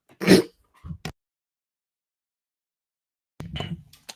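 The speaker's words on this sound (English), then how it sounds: "I just had to clear my throat." A man clears his throat once with a sharp, close burst, followed by a short second rasp, then silence before a brief trailing vocal sound.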